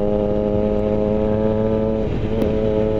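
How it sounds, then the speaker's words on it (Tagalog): A Triumph Tiger Sport 660 motorcycle engine while riding, a loud, steady, harmonic three-cylinder drone heard up close, holding pitch before briefly dipping and recovering, with wind noise and no talking. "gustong-gusto ko narinig yung tunog ng motor na to eh"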